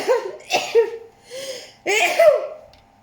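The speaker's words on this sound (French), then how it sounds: "je vais éternuer" A person gives a couple of short, explosive bursts like a sneeze, with brief vocal sounds around them, close and fairly loud.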